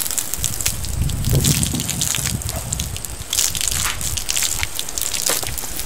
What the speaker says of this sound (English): So now let's go ahead and water these veronicas and get them going.